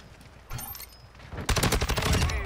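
Call of Duty MW2 video game gunfire: a few scattered shots early, then a loud, rapid automatic burst in the final second, close and dominant.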